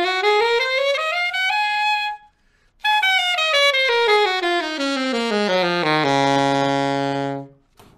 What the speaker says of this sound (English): So this is an alto saxophone